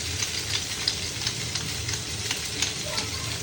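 Black pepper fries in hot oil in a pan, giving a steady, fairly loud, dense sizzle with faint crackles throughout; no voices.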